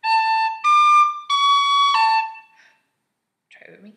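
A tin whistle plays a short traditional Scottish tune phrase alone, three sustained notes tongued and slurred, then a breath, followed by a faint trailing sound.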